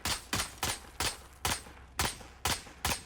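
A teammate's rifle fires in Valorant with seven evenly spaced shots, a sharp regular rhythm roughly every half second, loud and close with no speech.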